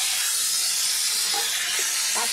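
Raw banana and potato pieces frying in oil give a loud, continuous hissing sizzle with a few soft pops, close and brief, with no speech.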